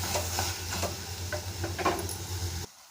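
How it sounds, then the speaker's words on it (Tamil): Onions, garlic and chopped tomato sauté in a pan for Kuttralam chicken varuval, giving a steady close sizzle with repeated stirring scrapes before the sound cuts off abruptly. "இது நல்லா வதக்கி கொடுக்கலாங்க."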